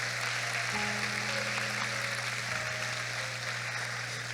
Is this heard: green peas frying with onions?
no